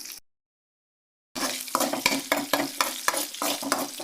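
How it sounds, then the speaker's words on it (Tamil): Mustard seeds, chana dal, urad dal, curry leaves and coriander fry in hot oil for curd semiya, a lively close sizzle that starts after a brief silence, with rhythmic stirring scrapes in the pan. "கடலப்பருப்பு உளுந்து கருவேப்பிலை கொத்தமல்லி போட்டு நல்லா இது செவக்கிற வரைக்கும் வந்து வறுத்துக்கலாம்"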